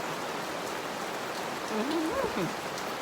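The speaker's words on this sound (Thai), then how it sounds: "ฝนตก" Rain falls steadily with a dense, even hiss; a voice speaks briefly partway through, under the constant patter.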